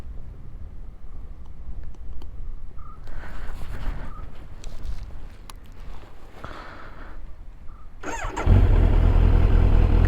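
A Kawasaki Z900 motorcycle fitted with an Akrapovic exhaust fires up near the end after a stretch of low background rumble, then settles into a loud, deep, steady idle close by.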